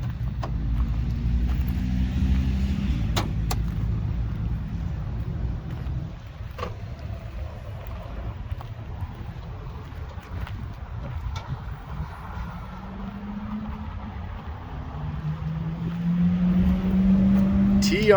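Supercharged TRD engine in a Toyota FJ Cruiser idling and revving, a steady low rumble that swells near the end, with people talking over it.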